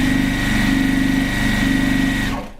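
A sewing machine stitching quilt pieces for a split rail fence block, a loud steady motor whir with rapid needle rhythm that winds down and stops near the end.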